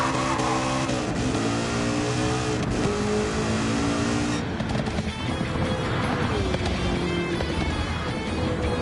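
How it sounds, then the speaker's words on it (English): A tuned 750 pp car in Gran Turismo 7 accelerates on Special Route X, its engine roaring loud and continuous while rising revs climb through the gears, with a brief dip before pulling hard again. "This car has a very good acceleration"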